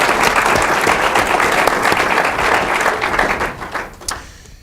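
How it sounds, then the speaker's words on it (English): Audience applause for a panel of four at an ethics event on campus, dense and fairly loud clapping that thins and tapers off into a few last claps at the end. "let's give Doug and Dave and Nancy and Pete another round of applause"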